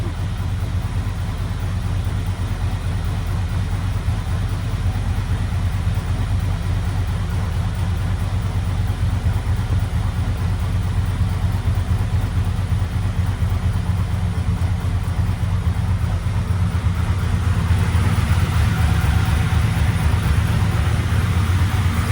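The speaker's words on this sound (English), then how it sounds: "I do have high idle." A freshly installed 385ci LT1 V8 with AFR heads in a 1996 Impala SS, set up for bracket racing, idles high with a loud, steady, deep rumble that holds unchanged for over twenty seconds close by.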